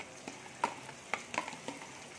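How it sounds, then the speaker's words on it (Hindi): Spoon stirs yogurt into sizzling beef karahi, a few distinct scraping clacks over a soft, steady frying hiss, close and moderately loud. "अब हम इसमें दही ऐड करेंगे।"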